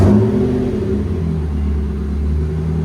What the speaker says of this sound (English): We just did a MagnaFlow MagnaPack true dual or dual system